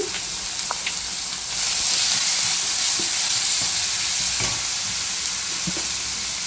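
Cumin, mustard seeds and asafoetida sizzle loudly in hot oil for a lemon moong dal rasam tempering, a dense continuous hiss broken by small pops and light stirring clicks close by.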